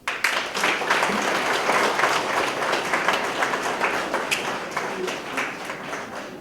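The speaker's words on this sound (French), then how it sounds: "Alors on les applaudit." Audience applause at a ceremony honouring couples married fifty years, a dense, steady round of clapping that swells quickly and holds, slowly tapering toward the end.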